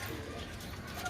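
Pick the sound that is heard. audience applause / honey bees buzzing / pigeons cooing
pigeons cooing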